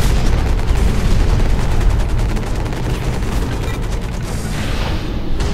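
TOW missile fire and blast in the mech shooter Hawken, a loud rumbling barrage of booms and rapid shots that gradually thins toward the end, heavy low-end impacts throughout.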